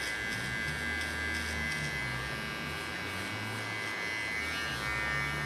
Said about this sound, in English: The contour I'm going to clean with my small clipper.